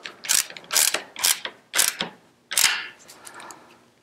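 A hand ratchet cranks down a bolt on a child's Special Tomato Hi-Low harness, five loud clicking bursts in quick steady succession, close up and alone.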